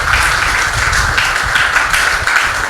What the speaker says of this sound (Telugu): చప్పట్లు కొట్టండి దేశాయికి.